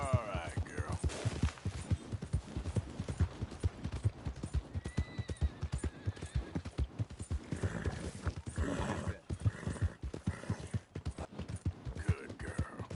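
Steady clip-clop of horse hooves trotting at a brisk, even rhythm in Red Dead Redemption 2, fairly close and prominent, with a horse whinny near the start and game-like background sound.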